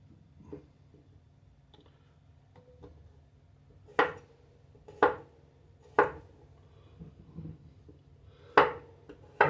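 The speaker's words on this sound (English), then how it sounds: "Now I'll take each potato and just cut them in lengthwise." A knife cuts through small gold potatoes lengthwise on a board, landing as several distinct sharp chops spaced about a second apart, close and clear over quiet background with no speech.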